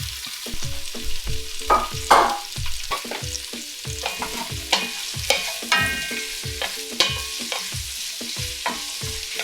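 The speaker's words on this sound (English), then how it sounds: "Now we're going to dump all those beautiful vegetables in, saute them for a little bit." Vegetables for lime soup sauté in a hot pan, with loud rhythmic scraping and stirring strokes over a continuous sizzle, close by and with no voices.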